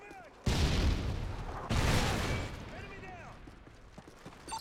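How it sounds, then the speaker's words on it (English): A predator missile strike explodes in Modern Warfare 3 gameplay with two loud, booming blasts in quick succession, followed by a rumbling, decaying roar and faint in-game chirps. "Friendly predator missile inbound."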